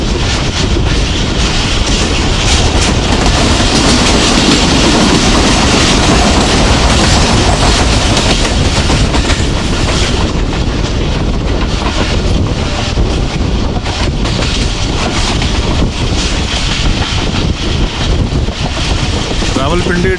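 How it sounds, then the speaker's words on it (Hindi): Jaffar Express passenger train running through tunnels in the Sohawa hills between Lahore and Rawalpindi, a loud, steady rumble of wheels and carriage with wind buffeting throughout. "खूबसूरत तरीके से पहली सुरंग में दाखिल हुई है ट्रेन हमारी, और अभी साथ ही दूसरी सुरंग आएगी।"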